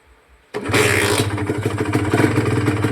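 A Honda NSR150SP motorcycle engine, newly rebuilt with a loud knock from the cylinder, fires up after a brief quiet moment and keeps running with a steady, rough, close-up idle rumble.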